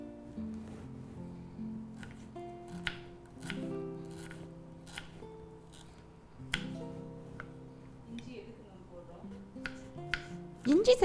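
Knife cutting a small piece of peeled ginger on a board for bottle gourd vadai, with repeated short crisp chops spread through the clip.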